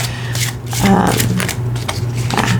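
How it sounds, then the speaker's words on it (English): Oracle cards are shuffled hand over hand in quick, repeated soft slaps and rustles while a person talks over them, with a faint steady hum beneath. "I do a hand over hand with all my decks, and this one shuffles so nicely"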